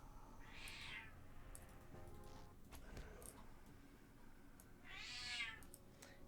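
A cat meows twice, clear and fairly close, with a few seconds of quiet room noise between the calls and a faint rumble beneath.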